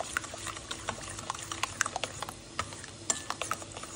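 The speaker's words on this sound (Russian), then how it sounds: "Добавляю соду, не полную чайную ложку без горки, в теплый кефир, все это перемешиваем." A spoon stirs warm kefir with baking soda in a bowl, producing irregular clinks and scraping taps against the sides over a quiet, faintly fizzing background.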